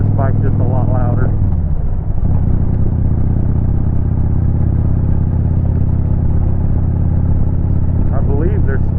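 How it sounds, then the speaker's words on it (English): Kawasaki Vulcan 2000 cruiser motorcycle on stock pipes, ridden on the road and picked up by a helmet microphone: a loud, steady low engine drone with wind noise runs throughout, and a voice is heard over it. "this bike's just a lot louder."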